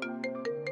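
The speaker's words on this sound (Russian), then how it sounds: "Кто-то звонит." A phone ringtone plays a short electronic melody of sustained tones with rhythmic higher blips, moderately loud and close, with no voices.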